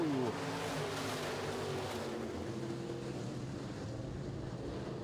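Modified race cars of the Midwest Modifieds heat race head into turns 1 and 2, a steady, fairly distant engine drone mixed with wind noise that holds throughout.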